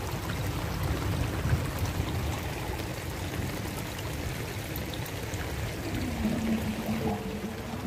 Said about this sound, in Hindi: खेत के ही अंदर पानी चल रहा है।